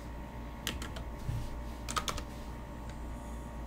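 Typing on a computer keyboard, quiet close clicks in short bursts with brief pauses over a low background hum.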